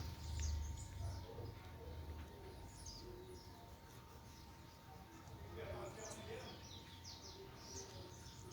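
Small birds crowd a wooden feeding board, their faint, scattered chirps rising in the background while someone talks over them.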